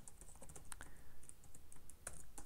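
Computer keyboard keys tapped while pasting a terminal command for converting a YOLOv5 PyTorch model to ONNX, a quick run of close, crisp clicks and presses with a few sharper taps, no talking.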